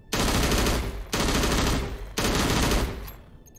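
Rapid automatic gunfire shooting at targets in the Anime War video game comes in three loud, dense bursts, each about a second long, with a short gap between them.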